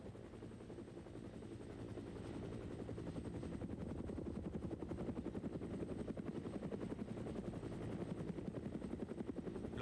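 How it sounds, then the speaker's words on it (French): Military HRS helicopters landing to unload troops in Korea, with a loud, steady rotor thumping and turbine drone that runs unbroken for the whole stretch and carries no voices. "les autres hélicoptères peuvent atterrir et débarquer le reste des troupes"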